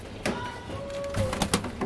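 A male pigeon gives a short, low cooing call, with soft clicks and faint rustling from the surrounding loft.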